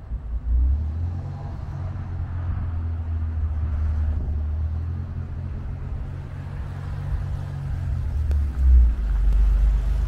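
A 1963 Chevrolet Corvair pulls away in second gear on a public street, its low engine rumble steady and close for about eight seconds before a brief surge of revving near the end, with no talking.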